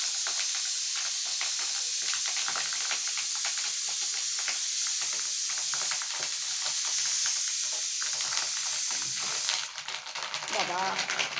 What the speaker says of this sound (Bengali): ডিমগুলো কেমন ফুটছে দেখো